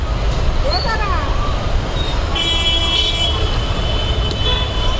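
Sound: road traffic with car horns

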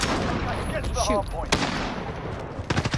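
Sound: gunfire in video game Call of Duty Modern Warfare

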